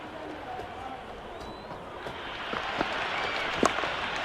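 Crowd cheering and clapping in the cricket video game Cricket 26, a broad swelling roar of applause that grows louder toward the end, under a commentator's voice.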